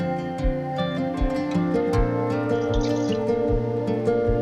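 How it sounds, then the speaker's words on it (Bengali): Water poured into spiced rice in a pot for a Hilsa fish head chanokanno recipe, a gentle splashing and dripping pour with bubbly liquid sounds, close and fairly quiet, no voices. "এবার এর মধ্যে জল দিয়ে দেব।"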